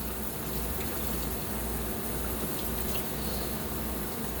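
Tap water runs steadily while celery stalks are rinsed under it, a constant broadband hiss of flowing water with faint soft splashes, close and moderately quiet.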